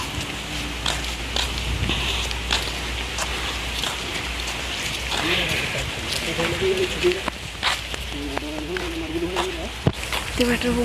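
Steady rain falls in a village setting near a temple in Odisha, a continuous hiss with scattered drop impacts, while people talk over it throughout.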